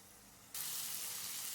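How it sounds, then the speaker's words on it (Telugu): Water poured into chicken curry with amaranth stems in a hot pan sets off a loud burst of sizzling and frying hiss partway through, after a quieter simmering start. "ఇప్పుడు తగినంత వాటర్ వేస్తున్నాను"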